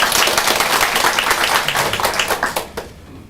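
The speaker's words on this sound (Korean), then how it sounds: "우리 주님 앞에 영광의 박수 다시 한번 올려드립니다." Church congregation applauding together in a sustained burst of dense clapping that stays full and steady, then tapers off and fades out near the end.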